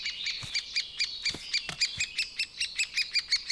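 Repeated squawking calls of several birds ring out in a rhythmic series through an old-growth beech virgin forest at Dobroč, fairly close and clear, with a few soft low knocks between them and no talking.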